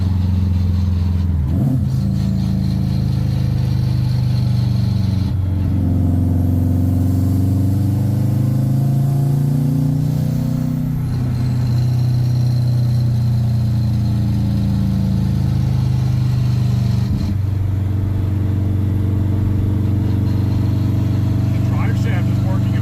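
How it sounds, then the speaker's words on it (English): A drift car being driven, its engine droning steadily with whining transmission noise and a few shifts in pitch, loud and close from inside the cabin throughout. "I'm used to transmission noise these days, I guess."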